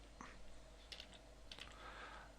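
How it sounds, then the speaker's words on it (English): Keystrokes on a computer keyboard typing a web address into a browser's address bar, a short run of quiet, close clicks in small irregular bursts over a low steady hum. "In the address bar you type"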